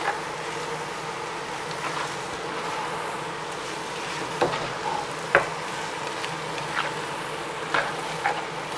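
Thick soy sauce is stirred into a spring roll filling mixture, giving a steady soft sizzling, scraping texture with a few sharp clinks of the utensil against the pan, moderately close and without talk.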